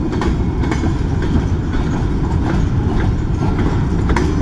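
A long BNSF freight train rolls past in East Kingsford, Michigan, its cars producing a continuous loud rumble with rhythmic clicking and clacking of wheels over rail joints, close by and steady throughout.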